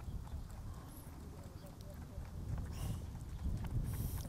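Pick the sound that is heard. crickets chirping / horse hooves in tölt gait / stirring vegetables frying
horse hooves in tölt gait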